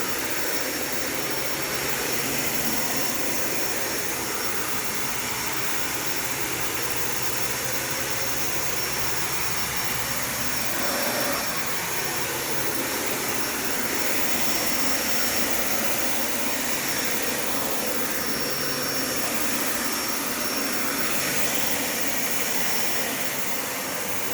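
A Dyson Ball Animal 3 Extra (UP30) upright vacuum cleaner runs steadily and loudly throughout, a constant close-up roaring whine with no voices.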